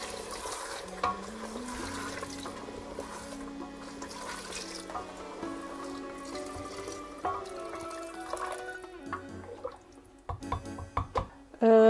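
Warm water is gradually poured from a small saucepan into a Tunisian lamb pasta sauce while it is stirred, making soft intermittent splashing and sloshing with people talking over it.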